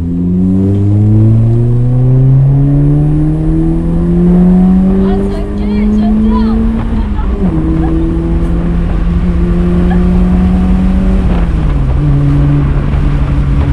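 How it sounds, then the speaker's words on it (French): A 1989 third-generation Honda Prelude engine hums steadily while driving, its pitch climbing through each gear before dropping at the shifts, heard from inside the car with people talking over it. "Mais Ça Honda a vraiment sa sonorité."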